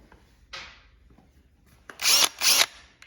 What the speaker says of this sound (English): let me use an example with the cordless drill